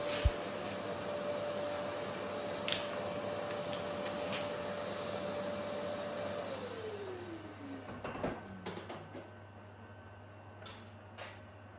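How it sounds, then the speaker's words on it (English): Makeshift heat cabinet running at about 26 degrees while curing resin for an English oak table top, giving a steady fan-like hum with a faint tone that slides down near the end, plus a few soft knocks. "this is just a makeshift kind of heat cabinet. I've got it running at about 26 at the moment."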